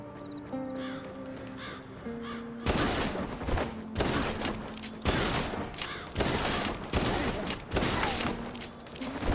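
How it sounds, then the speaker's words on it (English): Shotgun fire in the video game Kill the Crows: a string of loud, sharp blasts at irregular intervals after a calmer opening of game music and bird-like calls. "I think it was because I was shooting."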